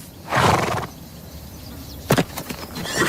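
A restless, wary horse gives a loud, close whinny, then a shorter burst of neighing follows after a pause, with faint hoof clatter in between.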